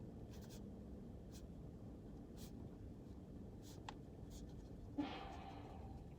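A pen scratches on paper in short, quiet strokes over a low background rumble, with a soft tap near the end.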